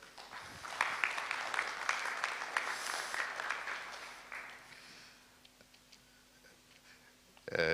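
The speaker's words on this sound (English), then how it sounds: "Please give him a round of applause." Applause from a conference audience rises quickly and holds steady for several seconds, then fades away, with a voice starting up at the very end.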